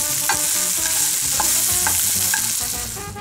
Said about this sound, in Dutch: En bak ze even in het pannetje waar je ook het ontbijtspek